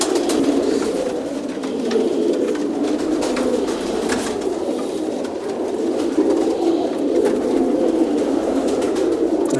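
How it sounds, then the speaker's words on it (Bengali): Teddy pigeons coo in a loft, soft overlapping calls from several birds forming a steady murmuring chorus with occasional light wing flutters and scratching. "এটা একটা টেডি কবুতর"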